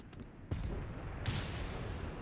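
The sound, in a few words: mortar fire in Company of Heroes 3 video game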